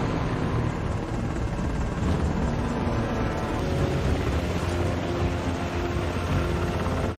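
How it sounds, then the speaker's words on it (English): A helicopter in a scene from the action TV series The Terminal List gives a steady, loud, broadband rotor roar that holds without a break for the full seven seconds. "at least a helicopter is not quiet"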